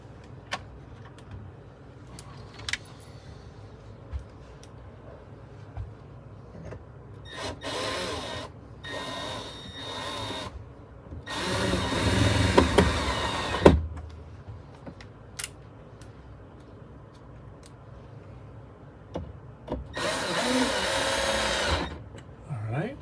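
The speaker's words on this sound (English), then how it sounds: "we got to run a couple screws up into that bracket" A power drill runs in several short bursts while driving screws up into the bracket of a pocket door on a 1998 Newell motorhome, loud and close, with quiet pauses between the runs.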